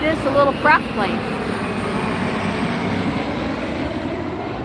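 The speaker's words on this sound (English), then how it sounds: "Oh, look at this, a little prop plane." A small propeller plane passes at LAX with a steady, loud engine drone, and a voice speaks briefly over the start.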